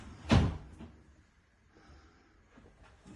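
A door in a Jack and Jill en suite shower room bumps once near the start, a short solid knock followed by quiet room tone and a couple of faint later clicks.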